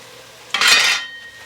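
A spoon scraping and knocking in a pot as garlic is stirred into simmering vegetables for a sausage, chicken and shrimp gumbo, one short clattering stir, close and alone.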